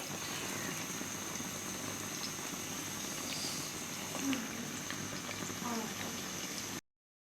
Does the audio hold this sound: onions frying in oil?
yes